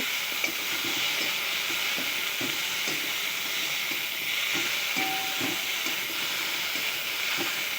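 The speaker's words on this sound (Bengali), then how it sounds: "উঁচেটাকে মাখিয়ে নিয়ে গরম তেলে ছেড়ে দিয়ে ভেজে নিচ্ছি" Bitter gourd pieces fry in hot oil, giving a steady sizzle and hiss with repeated soft scraping and clinking as a utensil stirs them in the pan, close and without voices.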